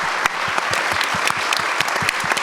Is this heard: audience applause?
yes